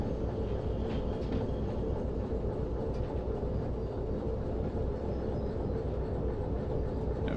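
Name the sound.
train with three wagons rolling on rails in Derail Valley video game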